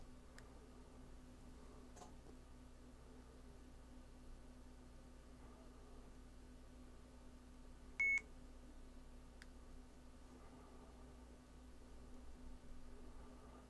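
A device connecting to Wi-Fi gives a single short, clear electronic beep in a quiet room, with a few faint ticks before and after.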